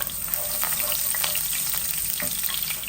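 Garlic cloves dropped into hot oil with browned cumin seeds and bay leaves, a dense close sizzle with fine crackling that stays loud and even throughout, no voices.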